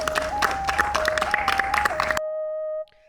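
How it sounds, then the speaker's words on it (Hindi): Applause rings out in a Chhattisgarhi short comedy film, brisk clapping overlaid by a steady electronic tone, then cutting off abruptly to leave faint beeping tones. "तालियां"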